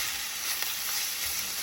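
Minced meat frying with softened onions in a pan, giving a steady, fairly loud sizzle with faint crackles throughout.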